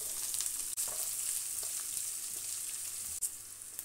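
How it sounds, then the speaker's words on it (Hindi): Onions fry in hot oil in a pan with curry leaves and cumin while an achari dal chana dish is being cooked, giving a steady, close sizzle and crackle with a couple of brief stirring clatters, no voices. "प्याज का कलर चेंज होने तक हम इसको फ्राई कर लेते हैं।"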